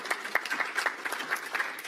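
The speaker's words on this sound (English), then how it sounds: "she deserves some applause." Fairly light audience applause at a political gathering, with individual claps standing out in an uneven patter, moderately distant and without talk.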